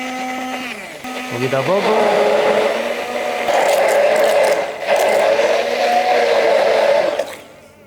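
A blender grinds green Canarian mojo sauce ingredients as oil is added, making a loud, whining motor buzz that shifts pitch as the mixture thickens. A voice speaks over it, and the whirring cuts off at the end.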